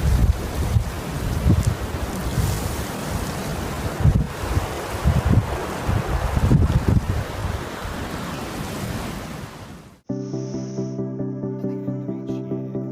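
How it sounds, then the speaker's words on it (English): Strong gusts roar continuously around a waterfall, a loud rushing wash of wind and spray with buffeting bursts for about ten seconds before cutting abruptly to a quiet tonal passage. "The wind was so strong that the waterfall that was supposed to flow down was flowing in the opposite direction."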